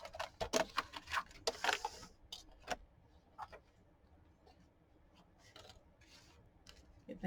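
Scissors snip through an envelope in a quick run of close, crisp cuts at the start, followed by a few scattered softer snips and light handling noise in an otherwise quiet space.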